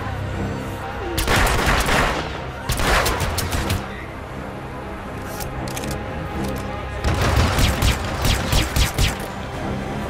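Loud, close gunfire in Hitman: Absolution, with dense bursts of shots and crashing impacts arriving in clusters under a constant noisy backdrop, with a voice briefly audible.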